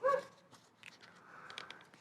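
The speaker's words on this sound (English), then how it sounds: "I think that dog's telling me I've done it wrong." A dog barks at a rain-soaked campsite: a loud burst of a few barks at first, then several fainter, shorter yips and barks from a short distance.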